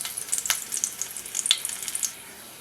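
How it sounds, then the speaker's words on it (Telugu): Garlic cloves frying in hot oil, a bright crackling sizzle with a few sharper pops, steady and close throughout, with no one speaking, tapering off softer at the end. "వెల్లుల్లి ఆయిల్లో వేగితే వెల్లుల్లి ఫ్లేవర్ అంతా కూడా ఆయిల్లోకి దిగుతుందండి"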